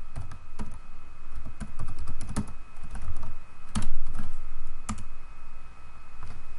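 Typing on a computer keyboard while entering a script name into the MATLAB command window, a steady run of close, crisp keystrokes with irregular rhythm and a few louder taps, alone with no talk.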